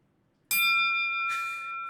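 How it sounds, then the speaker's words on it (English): A bell in a wrestling video game rings out twice, a bright metallic ding at the start followed by a second strike, with a long tonal ring sustaining between and after. "You hear a bell."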